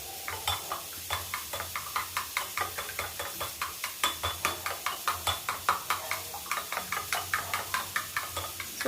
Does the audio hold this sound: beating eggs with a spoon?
yes